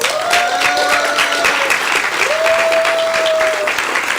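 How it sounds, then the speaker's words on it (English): An audience claps steadily for Dr. Corinne Barnes at a dedication and unveiling ceremony, dense applause filling the room. A faint tonal whistle runs through it, and no one speaks. "Please, ladies and gentlemen, applaud with me,"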